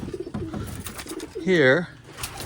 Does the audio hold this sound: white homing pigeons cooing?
yes